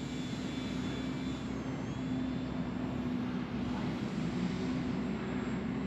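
A radio-controlled bush plane flying at low throttle, a steady distant engine drone holding an even pitch for several seconds against light outdoor background.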